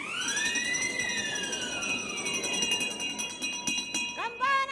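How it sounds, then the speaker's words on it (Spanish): An alarm rings out on a Spanish television game show, a loud rising-then-falling electronic wail that holds steady for several seconds before a voice cuts in at the end. "hasta esa alarma que ha sonado"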